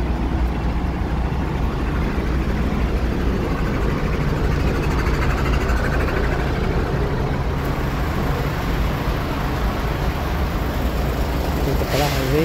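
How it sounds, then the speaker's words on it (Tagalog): Steady road traffic beside a highway in Riyadh, a continuous broad rumble of passing cars and trucks with engine hum, fairly loud and unbroken throughout, with faint voices mixed in. "Highway, malapit tayo sa tabing highway,"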